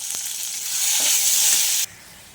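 Onions and tomatoes sauté in a hot pan, a loud, close hissing sizzle that builds slightly and then cuts off abruptly near the end, with no talk.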